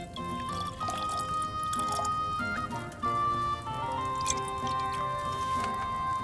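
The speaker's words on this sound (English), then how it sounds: "Then we grind the marigold and acid into the cauldron and finally pour." Marigold and acid poured into a cauldron at an alchemy bench in Kingdom Come: Deliverance II, heard as wet drips and pouring liquid over a faint musical background.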